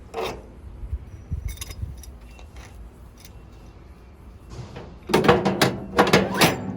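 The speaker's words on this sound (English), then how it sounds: "Grab the crank here, put it in position, you can roll it back up again." A hand crank winds a hose back onto the reel of a dual jetter trailer with a 1/2 inch hose, giving sparse ratcheting clicks and rubs that turn into a busy, louder burst of clattering scrapes near the end.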